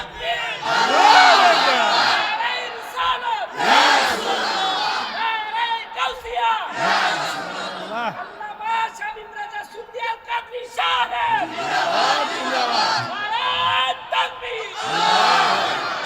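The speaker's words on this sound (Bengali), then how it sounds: "হুজুর একটা জোরে তাকবীর।" A large religious gathering answers a preacher's call with loud, massed takbir chants, repeated bursts of many voices shouting in unison that swell and fade in waves, with a lone voice leading between them.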